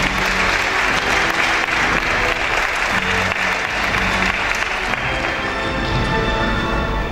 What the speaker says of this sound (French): vous pouvez l'applaudir bien fort